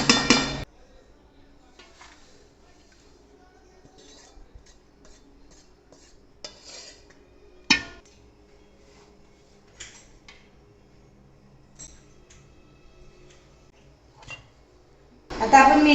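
Ghee-roasted dry dates are scraped from a pan into a metal bowl. Scattered metallic clinks and scrapes ring out against a quiet background, with one sharper clang in the middle and louder clatter at the start and end.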